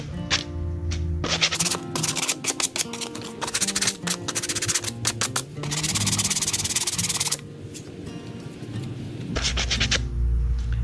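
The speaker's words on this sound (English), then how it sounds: "You just want to take some sandpaper and just sand the edges." Edges of a custom bait board are sanded by hand with 100 grit sandpaper, giving close, continuous scratchy rubbing strokes in quick back-and-forth bursts with a few brief pauses.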